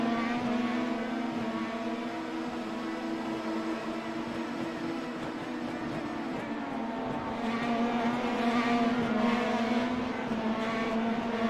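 Race cars battle on a track, several engines droning together in a sustained high whine that rises and shifts in pitch as they pass and close up, loud and continuous throughout.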